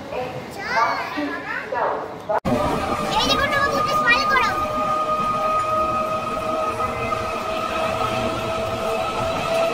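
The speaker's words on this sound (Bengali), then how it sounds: "তো দেখো আমি শ্রীরামপুর স্টেশনে আছি" A train hums and rumbles steadily at the Srirampur station platform, with a sustained tonal drone, children's voices and chatter mixed in over the noise.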